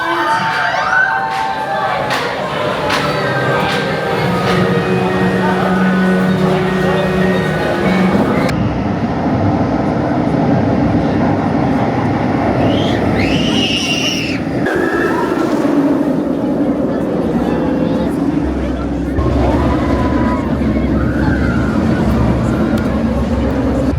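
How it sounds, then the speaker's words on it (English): Nemesis Inferno roller coaster at Thorpe Park, a continuous rumble of wheels on track with wind roar, shifting as the train twists through its course, with riders' screams and cheers rising over it. "Awesome ride there on Nemesis Inferno to start the day."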